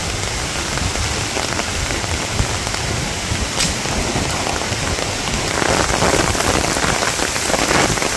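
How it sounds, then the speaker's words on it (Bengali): Heavy rain pours down in a windy village storm, a dense, loud hiss of drops hitting surfaces that swells slightly toward the end, close and continuous with no speech. "তো বৃষ্টি ভালোই জোরে নামছে"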